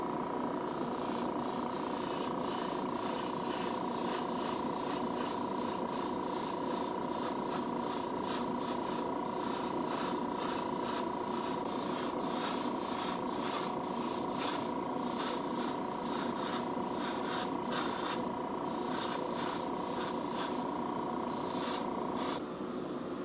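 A spray gun sprays paint onto a part in a long continuous hiss, with brief gaps where the trigger is released, steady and close throughout.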